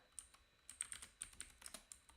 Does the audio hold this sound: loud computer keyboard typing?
yes